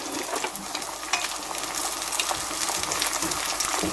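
Steady, close sizzling of eggplant frying in a hot pan, with light crackles and occasional stirring.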